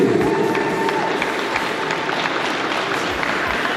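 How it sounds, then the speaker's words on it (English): Steady applause from a crowd at a Dragon Ball fan convention, dense clapping with some cheering mixed in, sustained at an even level throughout. "Give her a round of applause"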